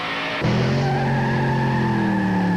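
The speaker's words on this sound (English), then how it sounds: "Let's see what 800 horses do under the hood." An 800-horsepower race car engine starts up and revs loudly nearby, holding a steady, rising roar with a strong droning tone as it pulls away.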